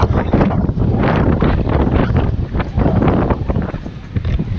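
Strong wind buffets the open air on a dry, rainless morning in the Philippines ahead of an approaching typhoon, a steady loud rush with gusty swells and no voices.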